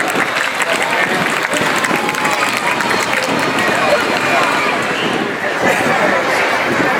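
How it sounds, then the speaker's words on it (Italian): A crowd applauds steadily for fire brigade teams after a firefighting demonstration in Cagliari, dense clapping continuing throughout with voices murmuring underneath. "Facciamo l'applauso alle nostre squadre che lasciano"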